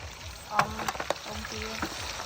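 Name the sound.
bacon frying in a pan at a campsite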